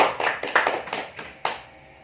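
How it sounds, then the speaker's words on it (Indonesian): Brief applause from a small classroom group at the end of a primary-school microteaching lesson on simple machines, a few seconds of close, uneven hand claps that fade quickly. "mari kita beri aplaus untuk semuanya"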